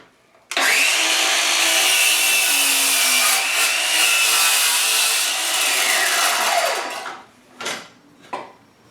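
A DEWALT 20V cordless sliding compound miter saw with a 7-1/4 inch blade spins up and cuts through wood in one loud, steady whine lasting several seconds, then winds down, followed by a couple of short knocks.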